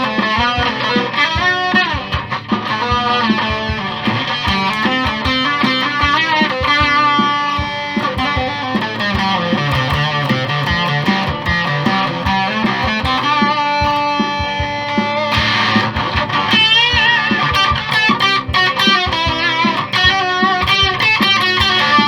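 Electric guitar with heavy distortion plays continuously, thick crunchy chords and riffs, loud and close, with no voices.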